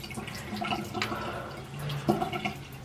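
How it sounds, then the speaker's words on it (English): Running water at a bathroom sink as a face is rinsed clean during a skincare routine, with steady splashing, dribbling and cupped-hand sloshes, close and continuous with no talking. "And then you rinse it off, obviously, is the next step."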